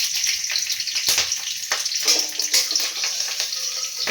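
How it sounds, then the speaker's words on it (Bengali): Black cumin seeds and two green chilies hit hot oil for tempering, a loud, close, continuous spitting sizzle with bright crackling bursts throughout, no talking. "কালো জিরে ফোড়ন দিয়ে দিলাম, আর এর মধ্যে কাঁচা লঙ্কাও দিয়ে দিচ্ছি দুটো।"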